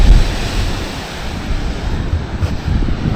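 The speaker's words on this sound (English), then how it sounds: "I still think the waves aren't that bad," Ocean waves wash continuously onto Tortuga Bay beach on Santa Cruz in the Galapagos, a steady broadband roar of surf with low rumbling swells and some wind buffeting the microphone, no voices.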